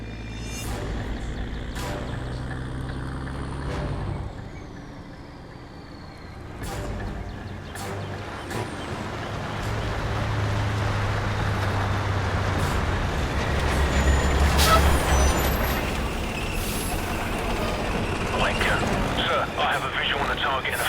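An enemy vehicle convoy of about six vehicles approaches in the video game Call of Duty: Modern Warfare Remastered, a low engine rumble that swells and grows louder midway, with voices speaking over it.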